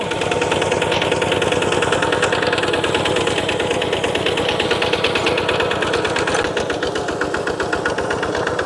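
A Thai walk-behind tractor tills a rice field in its first ploughing, its single-cylinder engine hammering loud and close in a fast, steady rhythm that barely varies, with no talk.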